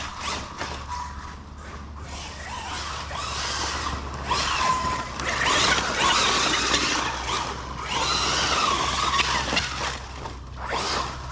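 A Losi Super Baja Rey 2.0 RC truck drifts on a property, its electric motor whining and squealing in rising and falling surges with tyres scrabbling on the ground, steady and fairly loud, with no talk.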